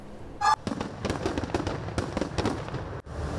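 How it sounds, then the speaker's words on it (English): A fireworks display over Giza, shown alongside drones, fills the air with dense, continuous crackling and popping bursts, loud and close, with sharper blasts scattered throughout. "A dazzling display of fireworks and drones lit up the skies over Giza"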